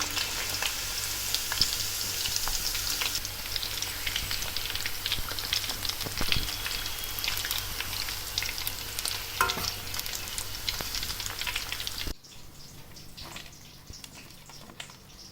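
Chicken 65 pieces deep-frying in hot oil until crispy, a dense continuous crackling sizzle up close that suddenly drops to a quieter bubbling near the end, with no talking.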